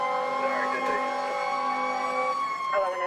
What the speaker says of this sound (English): what you're supposed to do when the sirens rage